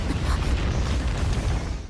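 A big explosion in the Soul Land 2 animation, a loud sustained rumbling boom with heavy low-end roar and crackling debris that holds for nearly two seconds before easing slightly, with no voices over it.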